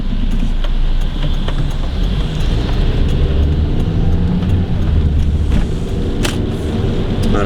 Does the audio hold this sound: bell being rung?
no